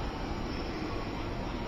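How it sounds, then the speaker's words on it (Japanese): Steady broadband rumble of a train arriving at a station platform, a continuous roar with no gaps and no voices heard. "まもなく一番線に当駅止まりの電車が参ります"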